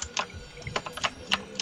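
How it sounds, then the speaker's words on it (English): Sharp, irregular clicks come from a loud computer keyboard being typed on close by during a Fortnite session, with no voices. "My keyboard's a little bit loud"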